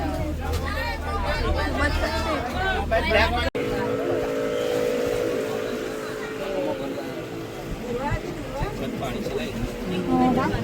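A motor boat engine hums steadily on the Narmada River, a continuous low drone under lively talk and chatter from passengers aboard.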